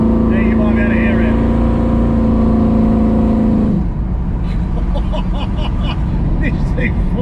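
Ford Mustang S Code big block Fastback engine droning loudly while driving, a steady note that drops as the engine eases off, with someone talking over it.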